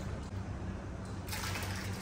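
A small amount of water poured during pizza making, a steady broadband wash of liquid running for about two seconds and growing brighter and louder near the end, close by with no talk.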